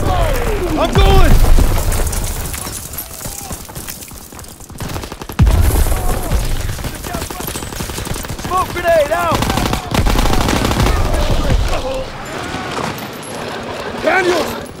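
Call of Duty: WWII battle din: dense, overlapping gunfire and heavy bursts rattle nonstop across fifteen seconds, with shouting voices mixed into the chaos.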